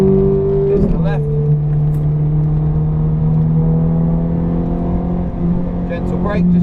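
Ferrari accelerating through the gears on the Silverstone circuit, a loud sustained engine drone with rising pitch and a gear change, heard from inside the car with a voice talking over it.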